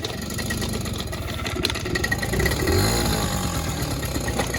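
A rebuilt silver Honda Urban Express scooter engine runs steadily during a ride, a continuous mid-pitched drone that swells slightly toward the middle.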